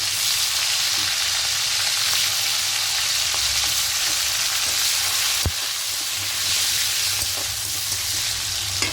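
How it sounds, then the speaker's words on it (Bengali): Nigella seeds, green chilli and tomatoes sizzling loudly in hot oil for a fish curry, a dense continuous crackle close up with a brief sharp knock partway through, with no voices. "এবার এই তেলের মধ্যে কালো জিরে ফোড়ন দেব কাঁচা লঙ্কা দেবো এতে টমেটোগুলো দিয়ে দেবো"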